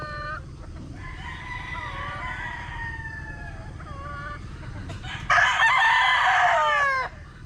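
Chickens in a breeding pen holding a Sweater broodstag and Gilmore pullets, with a rooster crowing and clucking close by over a steady farmyard hum, then a louder nearer crow near the end.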